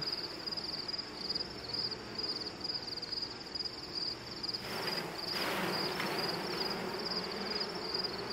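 Honeybees buzz steadily inside a beehive full of drones, a dense continuous hum with a faint high whine, rising slightly louder in the latter half.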